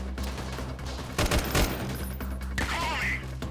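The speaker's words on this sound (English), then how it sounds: "This assault rifle is really powerful and very, very accurate indeed." Assault rifle fire in the game Freeman: Guerrilla Warfare rings out in a few sharp, close bursts over a steady background rumble, followed by a faint whistling sound.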